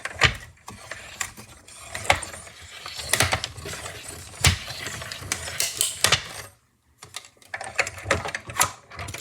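A mini cut-and-emboss machine is cranked by hand with die plates fed through, producing uneven ratcheting clicks and grinding mechanical clatter up close, pausing briefly before turning resumes.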